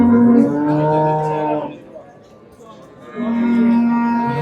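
Cattle at a livestock market in Qarshi, Kashkadarya, give two loud, long, close moos separated by a short quieter gap.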